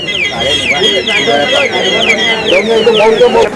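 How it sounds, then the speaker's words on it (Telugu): A household security alarm activated after a lock is set, sounding a loud, continuous warbling tone with repeated falling sweeps through the whole stretch, with low talk faintly underneath. "తిప్పేసేటంటే పీక్ సౌండ్ వస్తుంది. అలారం యాక్టివేట్ అయిందని అర్థం."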